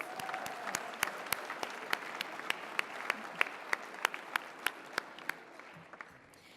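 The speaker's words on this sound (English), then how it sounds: "Let's give them all a round of applause." An audience claps in sustained applause at an alumni awards show, a dense steady wash of hands with a few sharper claps standing out near the front, no voices over it.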